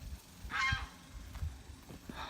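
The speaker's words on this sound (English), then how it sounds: "The ducks and the goose are on the other side." A goose gives a couple of faint, short honks near a chicken coop, one clear call followed by a weaker one over quiet outdoor background.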